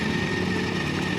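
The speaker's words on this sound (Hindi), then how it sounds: "यानी इतने बड़े ट्रैक्टर को अकेला है कि ये घिस के लेके जा रहा है।" A Mahindra tractor engine labours under heavy load while dragging a much bigger tractor, a dense, steady rumbling drone with a rough mid-range buzz, loud and continuous with no pauses or voices.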